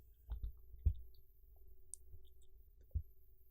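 Soft, close computer mouse clicks while working in a PowerPoint slide, a few scattered single taps with a larger click in between over a quiet background.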